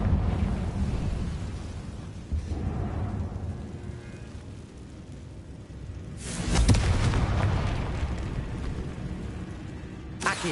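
A Confringo explosion spell goes off in Hogwarts Legacy: a low rumbling boom lingers, then a sharp, loud blast erupts near the end and rolls away.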